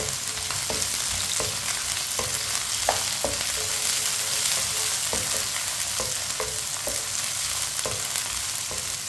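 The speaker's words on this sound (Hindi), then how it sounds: "भिंडी डाल लेंगे। मिक्स कर लेंगे।" Chunky pieces of okra fry in a pan with a dense, continuous loud sizzle, while a spoon clacks against the pan at irregular intervals as they are stirred.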